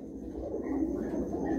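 Pigeons belonging to Ustad Binder Kingre Wala in Happy Raipur coo softly and faintly, a low, steady murmur with no talk.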